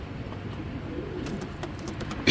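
A Giribaz pigeon at a market stall coos in low, soft murmurs over steady background noise, followed by a brief louder rustle at the end.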